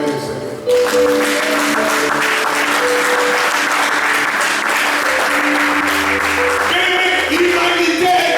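Church congregation applauding the Lord at a Sunday service, a loud sustained wave of clapping that starts abruptly and carries on steadily, with music tones running underneath.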